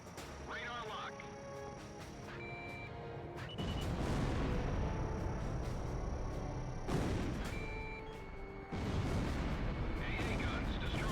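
Anti-aircraft guns in the flight combat game Ace Combat Zero go up in a string of heavy, booming explosions, loud blasts arriving in bursts over a steady engine rumble and game music.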